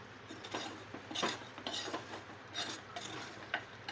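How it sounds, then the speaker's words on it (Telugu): Mutton curry with ginger is stirred in a pan, producing soft repeated scraping and light clinks at an irregular rhythm, faint and close. "అల్లం ఇట్లా పచ్చివాసన పోయేలాగా మొత్తం అయితే కలుపుకోవాలి కూరనైతే"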